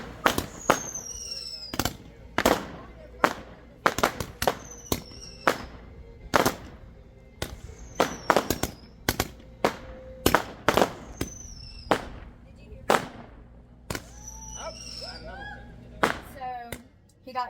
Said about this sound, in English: Brought us some more Roman candles